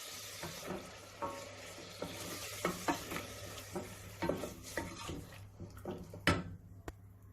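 Aubergine and tomatoes cooking in a pan for a low-protein vegetable pasta bake, a steady close sizzle broken by frequent scraping stirs and light utensil knocks, with no talking.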